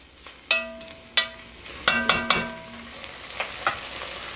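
Onions and red peppers sizzle gently in a soup pot for chowder while a utensil clanks and scrapes against the metal in several sharp strikes, close and fairly loud over the soft frying hiss.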